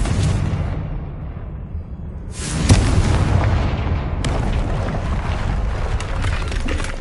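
Confringo explosion spell cast in Hogwarts Legacy on PS5: a loud, deep fiery blast bursts out after a low rumble, followed moments later by a second booming impact that rolls on with a sustained roar.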